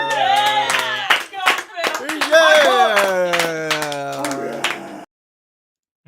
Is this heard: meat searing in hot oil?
no